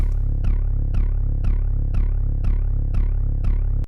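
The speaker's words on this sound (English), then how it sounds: "We have another bass sound." Dense, heavy synth bass repeating in steady notes about every half second, each with a bright attack that quickly fades, played alone.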